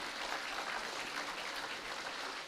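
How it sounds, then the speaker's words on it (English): An audience claps steadily at a conference valedictory ceremony, a dense, even patter of many hands heard from a distance and fairly faint. "A huge round of applause once again for the secretariat members."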